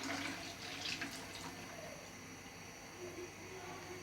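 Hot yakhni stock is poured into a pot of browned beef pulao, a steady watery splashing and trickling that runs at moderate level for the whole stretch, with no one speaking over it.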